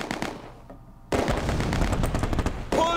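Gunfire in the Close Combat 2 war strategy game: a dense, loud burst of rapid machine-gun and rifle shots after a quieter opening, continuing in sharp overlapping cracks to the end.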